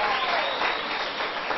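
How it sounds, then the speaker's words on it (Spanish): Church congregation applauding volunteers called to the front during a Spanish-language sermon, a steady, dense wash of clapping lasting the whole moment with no break. "Un aplauso para ellos."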